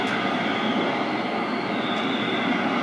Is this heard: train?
yes